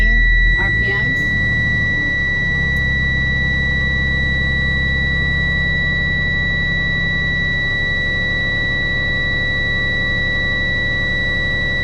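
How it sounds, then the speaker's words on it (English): A school bus low air pressure alarm buzzes as a loud, steady high-pitched tone over the idling diesel engine, starting after a brief clunk and sounding continuously until the end. "My alarm went off around 70."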